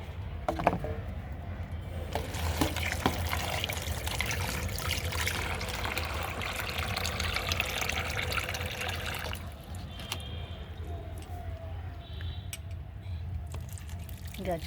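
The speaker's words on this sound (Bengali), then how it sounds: "চলো গাছগুলো একটু জল দিয়ে দিই" Water pours steadily from a watering can into flower pots of freshly planted inka marigolds, a continuous trickling splash for most of the stretch before it changes and lightens near the end.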